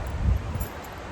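Low, rumbling wind buffets the microphone steadily, with a soft rustle running through it and no voices.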